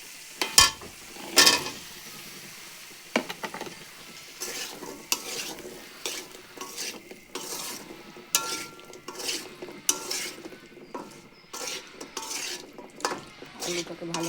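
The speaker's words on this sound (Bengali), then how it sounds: "মশলাটা কষানো হয়ে গেছে, এখানে আমি দিয়ে দেবো এখন আলু।" Potatoes going into a pan of sautéed spices, with scraping stirs and clanks of a utensil against the pan over a soft sizzle in irregular bursts.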